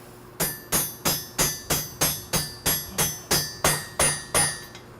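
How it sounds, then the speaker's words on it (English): A bolt is hammered to drive a spring pin into a metal balance beam leg, about a dozen sharp ringing metallic strikes in an even rhythm, each decaying briefly, close and loud with no talk. "I use the bolt that goes through this spring pin to drive the spring pin into its final location"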